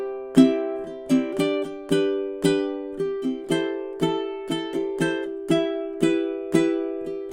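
A ukulele plucks the Wellerman melody B, measures 17 to 20, as a clear sequence of bright single notes and short strums with quick decays, played at a steady moderate tempo, solo and close.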